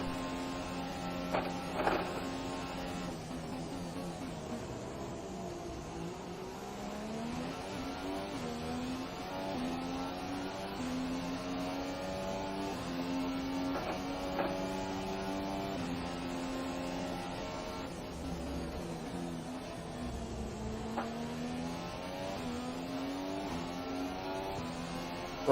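A Formula 1 car engine in the game F1 2017 whines continuously at the Austrian Grand Prix, its pitch climbing and dipping as the revs shift, steady and strained throughout with no talking.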